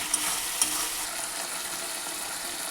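Ginger, garlic and dry chilli paste fry in a pan of oil for a mutton curry, a dense close hiss and sizzle with a couple of sharp spoon taps on the pan near the start, and no voices.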